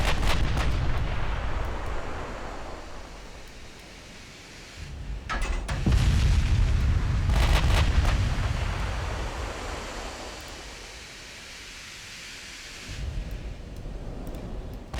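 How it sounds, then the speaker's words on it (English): Heavy battleship main guns fire in a naval battle in Ultimate Admiral: Dreadnoughts, booming salvos rolling out over a constant sea-like rumble, with a couple of louder blasts clustered in the middle. "It's quite a good angle though, firing the 6 guns."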